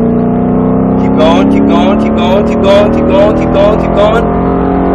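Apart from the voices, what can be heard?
Mustang Shelby GT engine accelerating on track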